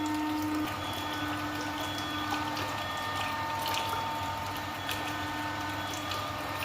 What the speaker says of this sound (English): This submersible pump will have a lot of water, so we better keep it here and allow all the water to go